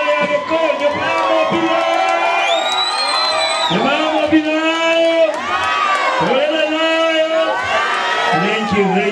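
A crowd at an agreement-signing event in a Kikuyu-speaking gathering cheers, whoops and shouts loudly, overlapping voices rising and falling in excited bursts that continue throughout, with speech mixed in.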